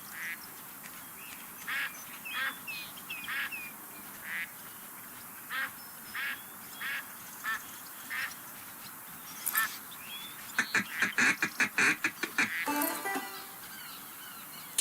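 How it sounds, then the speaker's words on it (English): Ducks quack in a Duck Dynasty hunting video game, a series of short calls coming in a steady rhythm, then a louder, faster burst of quacking toward the end, with no talk. "Hey, there's some ducks coming in."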